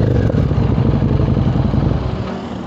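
A Harley-Davidson motorcycle's exhaust rumbles loud and near, a coarse, throbbing engine note that runs steadily for a few seconds before easing slightly.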